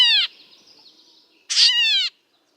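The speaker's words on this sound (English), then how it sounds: "these songbirds make a call like a kitten's meow" A Gray Catbird gives two close, loud mewing calls like a kitten's meow, separated by about a second of faint quiet.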